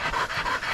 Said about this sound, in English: Good dogs. You can't ask for much better hooks than that up here.